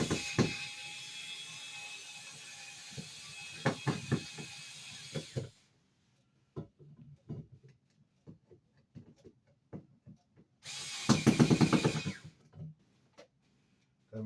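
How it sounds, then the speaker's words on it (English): A hand screwdriver drives screws into a computer wall mount behind a monitor, giving scattered ratcheting clicks and small metallic taps, with a soft background hiss that cuts out and then returns in a short burst. "Maybe I have to do this one with the screwdriver."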